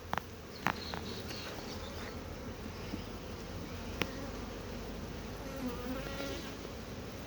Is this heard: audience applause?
no